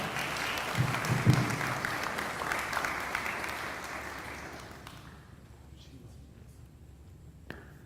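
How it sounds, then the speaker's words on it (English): Audience applause at a ceremony honoring school integration, a broad crowd clapping steadily at moderate distance before gradually fading out to near quiet, with a faint sharp knock near the end. "Big round of applause, big round of applause."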